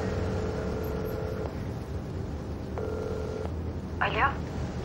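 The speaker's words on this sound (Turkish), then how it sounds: "Hadi Gül, aç şu telefonu." Telephone ringing indoors in a drama scene, two long electronic ring tones with a pause between them, moderately loud over a low room hum.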